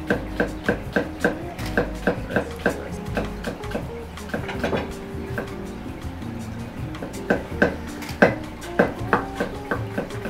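A knife chops onion and other vegetables on a board in a Japanese restaurant kitchen, a steady run of crisp, close knocks that pause midway and then resume, with a voice speaking softly under it.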